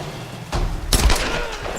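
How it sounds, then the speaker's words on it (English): Pistol shots in the Tomb Raider video game, a couple of loud close reports with booming low thumps, set against a busy background of game ambience. "so I'll just try to get him with the pistol"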